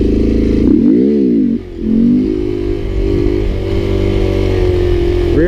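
A Honda Grom motorcycle engine revs and surges as the rider holds a slow wheelie, loud and close, with a rising rev, a brief dip, then a steady sustained drone.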